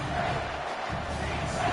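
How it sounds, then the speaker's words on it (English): A home stadium crowd in the College Football 25 video game roars continuously, a dense, steady wash of cheering that stays at an even level throughout. "How nice is it to have the home crowd going absolutely bananas?"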